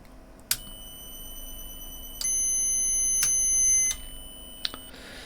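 A multimeter's continuity buzzer: several sharp electronic beeps, with one sustained high-pitched buzzer tone lasting over a second in the middle, then another short click-beep; quiet hum underneath.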